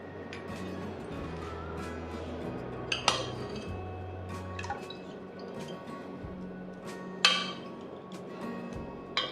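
Wheat starch paste for kurdai is stirred in a metal pot, making soft wet sloshing and dripping. A spoon knocks and clinks against the pot's sides now and then, with low kitchen hum underneath and nobody talking.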